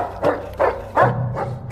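A general's dog barks loudly four times in quick succession, sharp and close, with nothing else competing.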